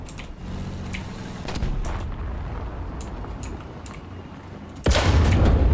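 In War Thunder, a T-72AV (TURMS-T) tank's cannon fires once near the end as a single loud, booming blast over a low rumbling engine and battlefield ambience.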